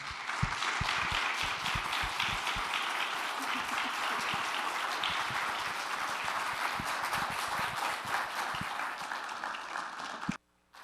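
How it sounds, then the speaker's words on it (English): A lecture audience gives a sustained round of applause for the speakers, dense, steady clapping from many people filling the room for about ten seconds before stopping abruptly. "And can we get one more round of applause?"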